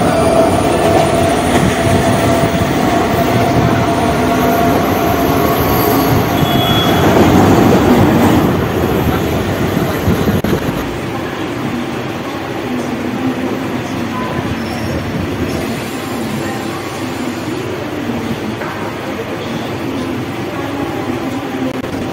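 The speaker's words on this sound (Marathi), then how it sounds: "दुसरी लोकल आणि थोड्याच वेळात मी आता पनवेलला पोहोचणार आहे." A Mumbai local train heading to Panvel station rumbles loudly and steadily from inside the carriage, the roar easing slightly partway through as the ride continues.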